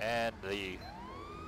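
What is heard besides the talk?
ambulance siren in Grand Theft Auto V video game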